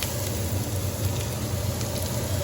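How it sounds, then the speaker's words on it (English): Onions, celery and other vegetables sizzle in a hot pan, a steady, dense crackling hiss that holds evenly throughout, close and fairly loud. "And I hear that pan sizzling"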